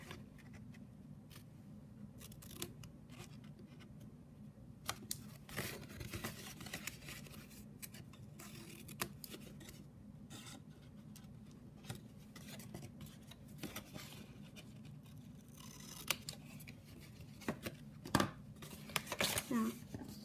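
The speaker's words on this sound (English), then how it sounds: "So just cut a little bit off of each one." Scissors trimming the flaps of a patterned paper box, giving small, sparse snips and paper rustles under steady talk throughout.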